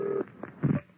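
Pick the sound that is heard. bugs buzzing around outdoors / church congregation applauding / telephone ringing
telephone ringing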